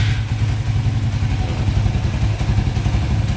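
A racing motorcycle engine with a throttle-body fuel injection fault idles steadily and close by, a continuous low rumbling putter throughout, with no restart burst evident.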